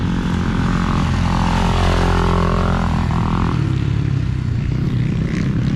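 Dirt bike motorcycle riding on a motocross track, its engine giving a steady, fairly loud droning whine that rises and falls slightly as the rider holds the throttle, with no talking.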